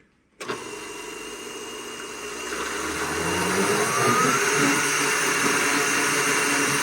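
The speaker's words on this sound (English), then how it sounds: "So once the lid is on, you can turn on your blender. This is going to make some noise." A blender motor whirs to life after a moment of quiet, settling into a steady high-pitched grinding hum that grows slightly louder as it runs, mixing breakfast casserole ingredients.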